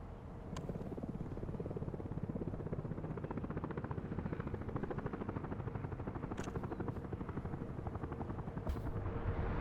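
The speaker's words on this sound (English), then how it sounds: "All the helicopters just seem to be going somewhere else." A helicopter in the video game Workers & Resources gives a steady, continuous rotor thrum. It holds at a moderate level throughout, with a few brief faint clicks and no talk.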